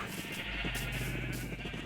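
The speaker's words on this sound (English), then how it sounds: "And we have a bunch of sheep" Sheep bleat in Minecraft Bedrock, a nasal wavering call rising over a steady background hum and game ambience, close and clear with no speech.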